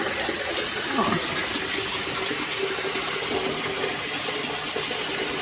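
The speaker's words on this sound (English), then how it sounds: "I've got the water pump going again." A garden water pump runs on a smallholding, pushing water with a steady gushing rush and hum that holds constant and fairly loud throughout.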